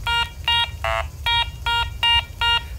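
Garrett ACE 400i metal detector sounding off on a coin: a series of loud, evenly spaced beeping tones, about seven short bursts in quick rhythm over a low background hum.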